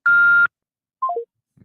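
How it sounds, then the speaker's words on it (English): Google Voice call-screening prompt ends in one long steady electronic beep, then a quick falling three-note chime, clear and close with no talking. "Please state your name after the tone,"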